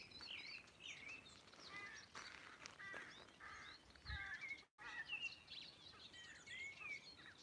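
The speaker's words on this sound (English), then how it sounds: "Hear the crows up there." Crows caw repeatedly from high overhead on a fresh morning after heavy overnight rain on top of Kilronan, their harsh calls mixed with other chirping birds in an open outdoor setting, fairly distant and steady throughout.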